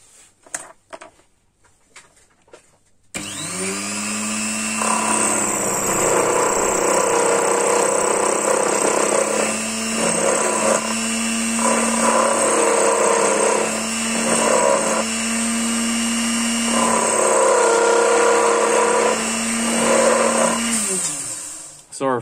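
Quicklathe facing a piece of 316 stainless steel. The cut starts suddenly and runs loud and continuously as a whining, chattering machining drone, then stops at the end.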